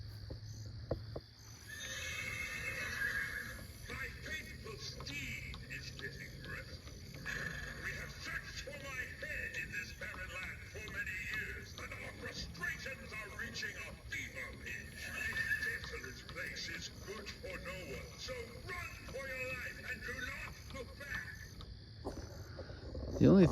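An animatronic Headless Horseman prop horse at a night-time Halloween yard haunt lets out a drawn-out neighing and whinnying, with clip-clop effects and eerie background noise under it.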